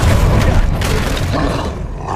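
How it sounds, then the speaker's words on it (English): Incendio fire spell cast during a Hogwarts Legacy fight, a loud whooshing, roaring burst of flame with deep booming rumble that fills the moment and tapers toward the end, no speech over it. "Incendio!"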